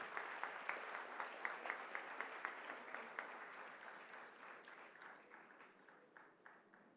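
An audience applauds to welcome Hema Malini to the dais at a school inaugural event, steady rippling clapping from a crowd heard at some distance, gradually thinning and fading out over several seconds.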